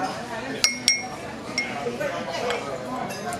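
A spoon clinks against a coffee cup while stirring in sugar, with two sharp clinks near the start and a few lighter taps after, under a busy room and talking.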